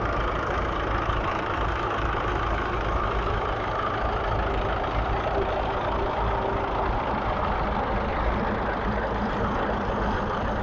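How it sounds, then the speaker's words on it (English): A four-wheel drive conversion Fordson Super Major tractor engine runs steadily at a steam rally, a continuous low rumbling drone with outdoor crowd noise around it, holding an even level throughout with no clear speech. "We've got a four-wheel drive conversion super major."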